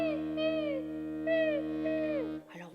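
A voice imitates a big ship's horn with a series of sustained, low hooting tones that slide downward at their ends, repeated several times in a row before breaking off.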